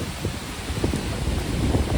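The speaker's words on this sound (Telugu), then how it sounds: "ఏమైనా వర్షం దంచి కొట్టుడా." Heavy summer downpour of rain, a steady dense broadband hiss with low rumbling undertones, continuous and fairly loud throughout with no voices.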